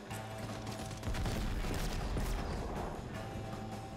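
Ray gun fire in Call of Duty MW3, dual-wielded, comes as a dense, fast stream of energy shots, with a heavier surge of blasts in the middle and a steady crackle to the end.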